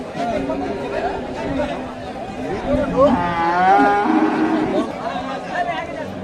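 A cow lets out a long, low moo amid the busy chatter and talking of a crowd at a cattle market.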